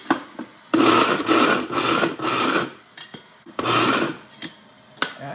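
Dried shrimp are pounded and ground in a mortar, giving close, loud gritty scraping and rubbing strokes in uneven bursts with short pauses and a few sharp knocks, with no talking.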